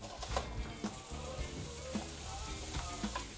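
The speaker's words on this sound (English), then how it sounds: "You hear that sizzle?" Butter sizzles and crackles steadily in a pan, with soft pops and a few faint clinks of utensils, fairly quiet and close.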